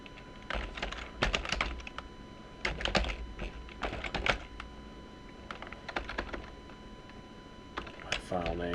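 Computer keyboard typing in irregular clusters of sharp clicks, close and fairly loud, with pauses between bursts and a faint voice briefly at the end.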